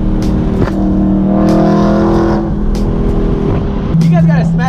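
A BMW E92 M3 with a straight-piped exhaust does donuts, its engine revving loud and close with rising and falling tones as the car swings around, while someone talks over it.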